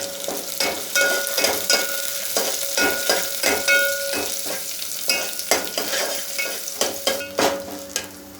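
Curry leaves, garlic and green chillies fry in hot oil in a Malvani kitchen, crackling and sizzling close up, with rhythmic stirring scrapes roughly every half second throughout.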